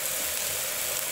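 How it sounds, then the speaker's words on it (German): Carrot pieces sauté in a hot pan, giving a steady, close, bright sizzling hiss that runs unbroken and alone for a moment. "gebe hier die Karotten. Bisschen dünsten."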